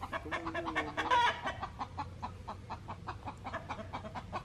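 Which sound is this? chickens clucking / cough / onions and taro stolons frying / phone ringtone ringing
chickens clucking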